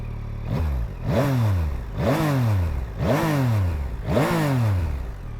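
A 2024 Yamaha XSR900 GP motorcycle with an MT-09 engine and underslung exhaust revs in four loud, evenly spaced blips, each rising sharply in pitch then falling back to idle, close by with no talking.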